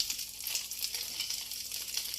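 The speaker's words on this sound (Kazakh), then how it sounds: "Нанымызды аунатып, енді майымызға салып қуыра бастаймыз." Bread slices coated in beaten egg fry in hot oil, giving a close, steady crackling sizzle that carries on evenly throughout.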